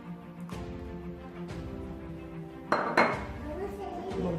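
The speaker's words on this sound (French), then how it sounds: "Donc je mélange." A spoon stirs melted Kinder chocolate and butter in a mug, giving soft scraping and a few sharper clinks against the ceramic, quiet and close, with a louder clatter toward the end.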